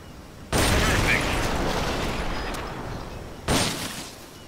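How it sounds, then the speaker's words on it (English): An M16 assault rifle fires in Metal Gear Solid Peace Walker, with two loud bursts of rapid fire. Each burst starts abruptly and then fades into a rumbling tail. "The M16 is a standard assault rifle,"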